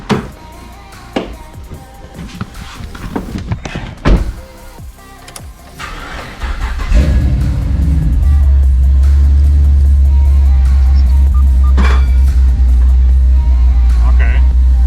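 A Pontiac G8 starting off on a test drive after a speed sensor replacement: clunks and shuffling, then a steady low engine drone building and holding close, with some talk early on.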